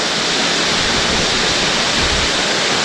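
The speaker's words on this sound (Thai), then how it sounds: "แล้วน้ำตกตรงนี้ก็จะมีละอองนะครับ" Steady, loud roar of a waterfall at Mae Kampong village in a forested mountain setting, a dense unbroken rush of falling water heard close with no pauses.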